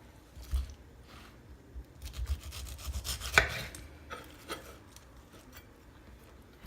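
A knife saws through the bottom of a pineapple with soft, irregular rubbing and crunching strokes, close by and fairly quiet, with a sharper snap near the middle and a thump at the end.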